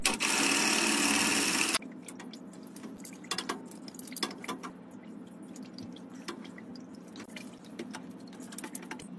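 Water drains from a cut plumbing pipe, starting as a loud, steady gush for about two seconds, then dropping to quieter trickles and scattered drips.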